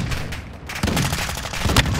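Loud, close gunfire bursts from Call of Duty Warzone 2: rapid cracking shots in two clusters, with a brief lull between them and a booming tail.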